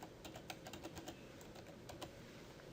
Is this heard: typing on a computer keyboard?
yes